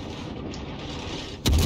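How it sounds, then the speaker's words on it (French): Armor-piercing shells fired from the Hindenburg cruiser's guns in World of Warships: a steady rumbling battle ambience ends in one sudden loud gun blast. "je tire au perforant cette fois"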